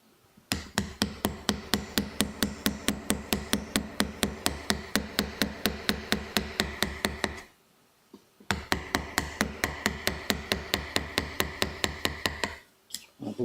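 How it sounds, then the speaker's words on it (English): Light hammer-and-chisel tapping on a block: a fast, even stream of sharp metallic taps, close and crisp, running for about seven seconds, a brief pause, then another steady run of taps. "I'll just do some light tapping to clear a bit of this out"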